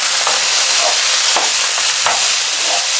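Loud, continuous sizzling of about 500 grams of boiled, chopped potatoes frying in a pan for corned beef hash, with occasional scraping stirs breaking through the hiss.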